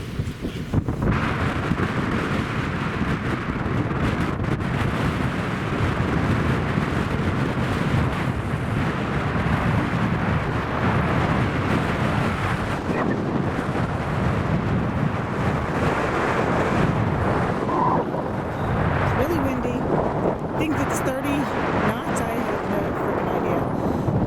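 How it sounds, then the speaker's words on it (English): Wind gusts across a marina dock beside a Hatteras 58 motor yacht, a steady, close, rumbling roar of buffeting air that fills the whole stretch without letting up. "the wind's blowing against this, so it just pushed us out no matter what we could do"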